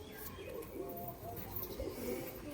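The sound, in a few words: pigeons cooing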